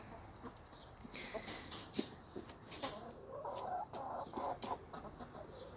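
Chickens cluck softly at a moderate distance, a scattered run of short calls over low background noise.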